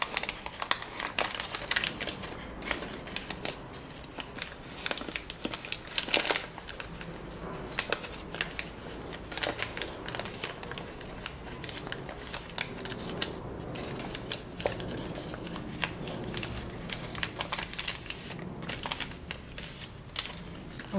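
Paper rustles and crinkles close up as successive folds are made on an origami scorpion, a continuous soft crackling with small sharp creasing taps over a long stretch and little talk.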